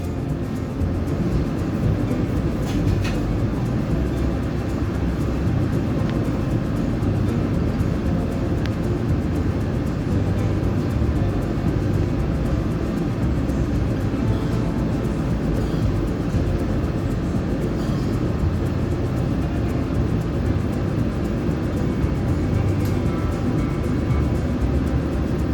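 Steady rumble of the KA Parahyangan executive train running between Jakarta and Bandung, a continuous low-heavy drone with faint rattles, heard from inside throughout without talk.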